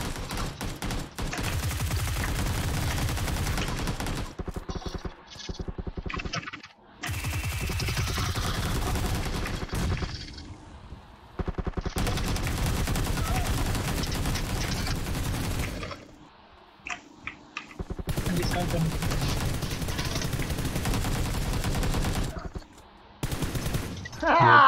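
Gunfire in the PUBG Lite battle royale shooter: long bursts of rapid automatic shots crackling densely for several seconds at a time, separated by brief quieter gaps, loud and close.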